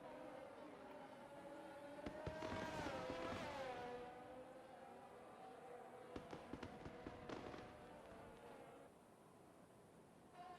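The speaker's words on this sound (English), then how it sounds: "it's just been setting off, like, fireworks and fireworks and fireworks the whole" In a racing video game set at Bahrain, fireworks crackle and pop in bursts over a steady engine drone. A rising and falling engine whine runs through the middle, and the whole mix stays faint.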